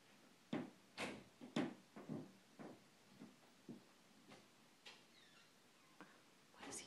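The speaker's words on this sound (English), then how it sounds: "It's doors opening and shutting upstairs." Doors open and shut on an upper floor of a house, a scattered series of soft, muffled thumps and clicks, distant and faint in an otherwise quiet room.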